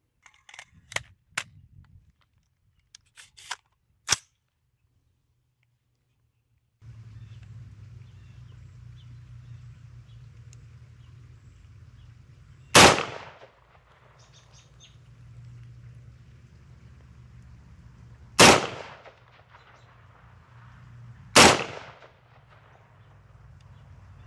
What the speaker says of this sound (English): Now time for the .223 out of this AR style rifle.